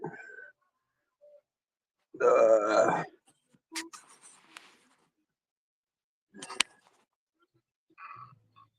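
A single loud, rough burp rumbles up close, about a second long, among scattered faint clicks and brief quiet sounds in an otherwise quiet room.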